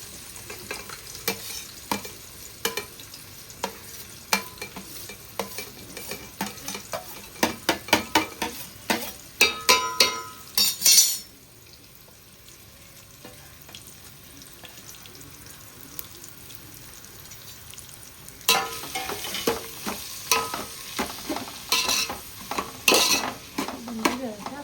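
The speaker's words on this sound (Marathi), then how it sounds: "आता मी पहिला कांदा टाकते. काही गरम येतं, कांदा टाकून घेते म्हणजे थोडासा लाल करतो" Onions are frying in a hot pot with whole spices like cinnamon and cloves while the base for a chicken biryani is made. The onions sizzle and are stirred with clinks and scrapes, with a quieter stretch in the middle and no voices.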